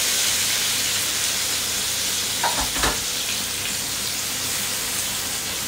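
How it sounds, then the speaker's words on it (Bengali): Vegetables hit hot oil with a loud, continuous sizzling hiss close by. A brief clatter of stirring comes midway, and no one speaks. "এখন হচ্ছে তেলে দেওয়ার পালা।"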